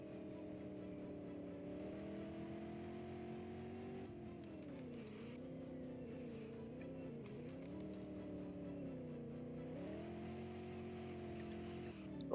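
A Porsche 718 Cayman GT4 RS drives a winding road with traction control off, its engine note holding a steady, loud drone that climbs and dips repeatedly with throttle changes and gear shifts, no voices over it.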